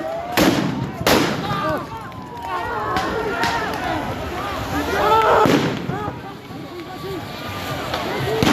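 Bursts and bangs from grenades thrown at a street protest by healthcare workers, several sharp blasts in the first seconds, then further pops amid crowd noise, shouting and voices talking over the din.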